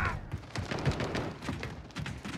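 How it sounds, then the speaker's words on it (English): Bursts of automatic gunfire in Call of Duty Modern Warfare multiplayer, rapid rattling shots and thumps stacked densely across the moment, fairly loud and close. "Is someone trying to shoot on me or is that teammate?"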